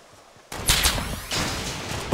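Gunfire in the Fortnite battle royale game: a few sharp close shots at the start, then sustained loud crackling and rattling, with a brief quieter stretch before another burst near the end.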